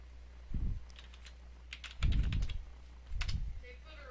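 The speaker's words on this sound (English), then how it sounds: "Type a password hint." Computer keyboard typing in three short bursts of keystrokes with pauses between them while a password hint is entered during a Windows 7 install, close and fairly quiet, with no talking.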